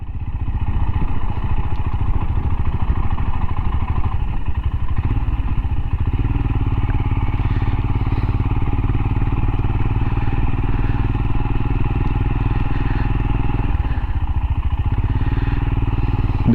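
Royal Enfield Himalayan motorcycle ridden on the road, its steady engine drone and rumble continuous and close throughout, with wind noise and a slight shift in pitch near the middle.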